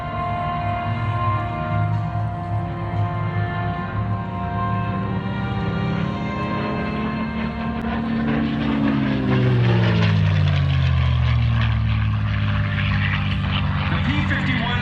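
A restored P-51 propeller fighter plane drones loudly with a steady engine roar, then its pitch sweeps downward as it passes, all continuous, with someone talking over it.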